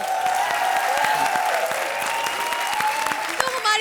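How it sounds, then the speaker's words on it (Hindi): A studio audience on a Hindi comedy show breaks into sustained, even applause, with a singing or speaking voice running over the clapping throughout. "बजाओ ताली"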